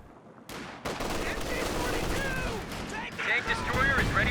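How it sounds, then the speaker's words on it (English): A German MG42 light machine gun fires a sustained burst in the strategy game Company of Heroes 2, rattling steadily under battle noise with faint booms, while a commentator talks over it. "Big LMG burst"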